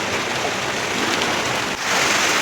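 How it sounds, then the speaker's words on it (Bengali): Heavy rain during a storm pours down continuously onto a house, a dense and loud hiss with no break and no voices. "দেখো বৃষ্টি।"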